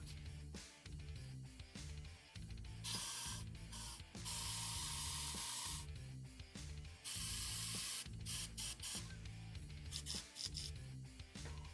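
A Badger airbrush sprays 3D primer onto a 3D-printed part, producing a steady hiss that comes in long and short bursts, broken by brief mechanical clicks and rattles from the gun, close up with no talking.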